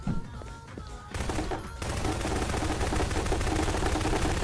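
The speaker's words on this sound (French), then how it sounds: "Le mec il tire sur le canapé" Rapid automatic gunfire in a Garry's Mod Props/Hunters match, shots aimed at a couch, starting sparse then swelling into a loud, continuous dense burst that fills the rest of the moment.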